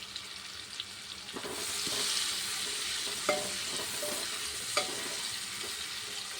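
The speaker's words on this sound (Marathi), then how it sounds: "आता ही शिमला मिरची चांगली याच्यामध्ये व्यवस्थित परतून घ्यायची" Capsicum sizzles and fries in a pan for pav bhaji, a steady hiss close by, broken by a few sharp scrapes and clinks of a spatula stirring the pieces.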